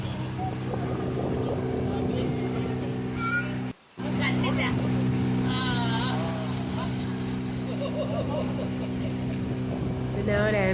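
Motorboat engine on a backwater lake, a steady droning hum close by throughout with a brief dropout near the start, while people talk over it.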